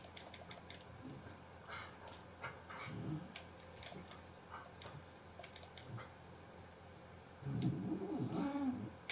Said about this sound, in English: Can you hear my two dogs on the?